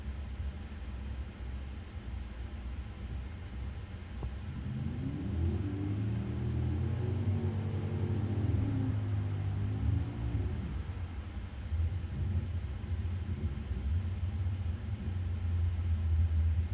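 Chevrolet Caprice and Oldsmobile Cutlass street cars racing side by side at a drag strip, a steady loud engine roar swelling as they launch and pass, then settling into a distant rumble.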